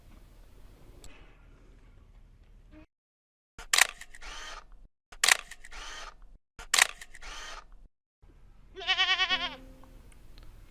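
Goats on a farm in Fuerteventura, Canary Islands, give one clear bleat near the end, preceded by several short camera-shutter-like clicks and bursts amid quiet outdoor background.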